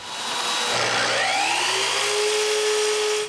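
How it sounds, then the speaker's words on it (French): A mitre saw whines up and cuts walnut or oak, its pitch rising and settling into a sustained high tone, loud and close, ending with a short clunk. "si je les coupais avec la scie à onglet"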